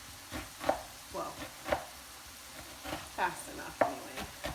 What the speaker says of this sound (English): I'm chopping onions.